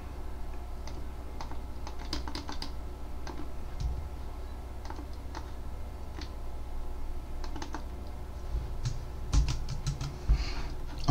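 Password entered on a computer keyboard as sparse, light key taps over a steady low background hum, a few sharper clicks toward the end.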